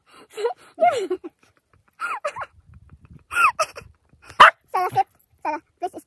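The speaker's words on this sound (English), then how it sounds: "Sarah, please stop barking." A dog on a hike near Lost Man Lake in the Aspen Snowmass area of Colorado gives short yelping barks and whines between quiet gaps, close by, in bursts spread across the clip.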